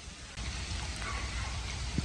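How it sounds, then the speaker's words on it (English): Steady rain falls on a wet winter night during an amphibian migration, a dense broadband hiss that thickens after the first moment, close and continuous, with a brief thump near the end. "The rain is picking up."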